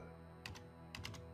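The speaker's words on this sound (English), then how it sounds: "I'm just going to have to type in the whole thing." Keys tapped on a computer keyboard while entering commands in the video game Stories Untold, two short clusters of quick, quiet keystrokes over a faint hum.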